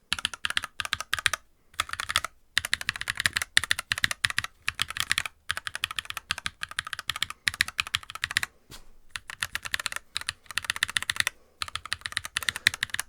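Rapid mechanical keyboard typing on a NuPhy Halo 65 with Baby Kangaroo switches, close and clear, in bursts of clacky keystrokes separated by short pauses, with no talking.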